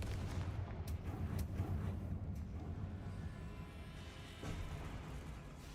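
A Confringo blasting spell explodes in the Hogwarts Legacy video game, a dense, sustained rumbling blast with sharp crackling bursts near the start, loud and continuous throughout with no talk over it.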